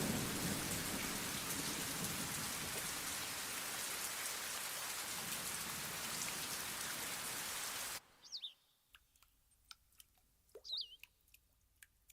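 Heavy rain pours down in a loud, steady wash for about eight seconds, then cuts abruptly to near silence broken by a few faint, scattered sounds.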